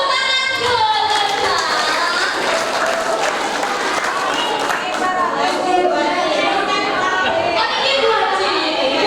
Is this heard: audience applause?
yes